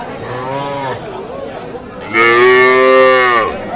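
Two drawn-out moos from young crossbred calves at a cattle market, the second louder and longer, with faint chatter in the background between them.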